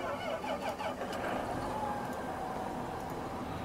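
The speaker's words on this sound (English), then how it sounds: "I'm going to have to turn the tractor on." A tractor engine turns over and settles into a steady mid-pitched running drone in Farming Simulator 2015, continuous and fairly quiet throughout.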